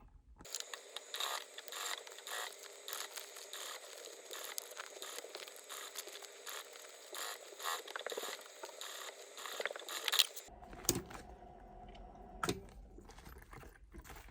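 A sewing machine stitches along the raw edge of an Ashley clutch with the presser foot riding the edge: a steady, fast mechanical whir runs for about ten seconds, then stops abruptly and gives way to a few light handling clicks.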